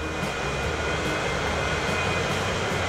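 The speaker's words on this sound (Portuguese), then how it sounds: "Olha o avião ali já parando, já vai pegar as pessoas." An airliner at Manaus airport in Transport Fever 2 gives off a steady, moderately loud jet engine drone that holds evenly throughout with no talking.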